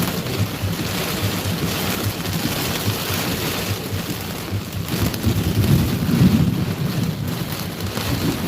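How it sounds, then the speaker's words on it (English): Strong wind in a severe Mississippi thunderstorm roars and buffets steadily around a vehicle, mixed with rain noise, loud and continuous, swelling in a heavier gust near the end. "Oh man, that wind is brutal."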